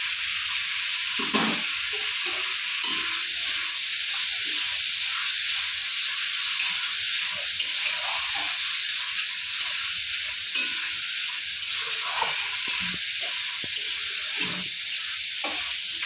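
Whole garam masala and dried red chillies sizzle loudly in hot oil, a steady dense crackling hiss with occasional pops and stirring scrapes, close up and continuous.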